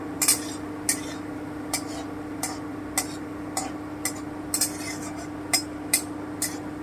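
Matar dal fritters fry quietly in a pan while a utensil taps and scrapes against it in an irregular rhythm, about a dozen distinct clinks over a low steady frying hum.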